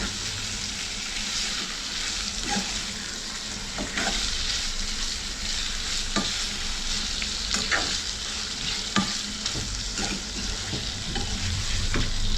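Chicken curry frying in a pan over a high flame, with a steady close sizzle under repeated scraping stir strokes throughout, no talk.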